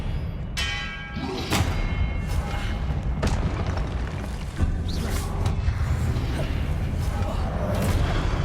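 Confringo spell blasts from Hogwarts Legacy combat, with repeated loud booms and sharp impacts over a constant game rumble and music, alongside occasional voice.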